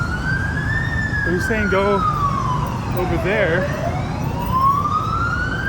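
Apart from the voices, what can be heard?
ambulance sirens in city traffic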